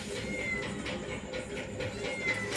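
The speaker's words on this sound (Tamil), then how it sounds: "இன்னும் பூனை கரைஞ்சிட்டு இருக்கு" Cat meowing during fish cutting, with a few repeated plaintive meows over a steady background noise, moderately loud, no clear speech.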